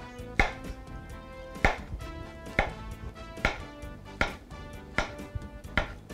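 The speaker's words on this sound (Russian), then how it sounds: "Нарезаем бананы дольками." A knife slices bananas on a cutting board, about six crisp strokes at an even pace, each one close and distinct with no talking.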